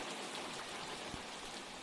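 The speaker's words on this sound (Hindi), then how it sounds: "तुम्हें पता नहीं है कितनी तेज बारिश हो रही है।" Heavy rain falls in a steady, dense hiss with scattered drops striking surfaces nearby, alone without talk.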